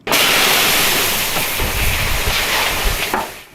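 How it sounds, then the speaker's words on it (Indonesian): Freshly roasted, smoking coffee beans pour out of a roaster in a coffee kitchen in a loud, continuous rushing cascade that starts abruptly and runs steadily before tapering near the end. "Pak Widya dan anak buahnya bersiap menuang biji kopi yang dipanggang."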